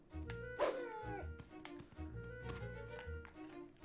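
A cartoon dog in the Bugs Bunny PS1 video game gives small yips and whimpers amid tapping game sound effects, moderately loud over a soft background.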